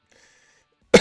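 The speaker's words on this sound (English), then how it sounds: "Still got some of the cough left." A single harsh cough bursts out close and loud after a near-silent stretch, a lingering cough from a recent illness.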